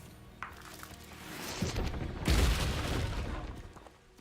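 Confringo fire spell in Hogwarts Legacy bursting with a heavy boom around the midpoint, followed by a crackling, rumbling blast that trails off over a couple of seconds.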